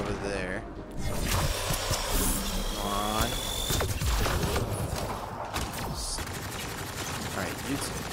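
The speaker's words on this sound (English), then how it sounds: "Come on, stop shooting." Gunfire during Mass Effect Andromeda video game combat rattles in bursts of rapid shots, mixed with mechanical clicks and game effects while a person talks over the action.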